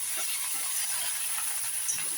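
Chopped potatoes and pumpkin hiss and sizzle in hot tempering oil in a pan, a steady, fairly loud broadband crackle that holds evenly throughout with no voices.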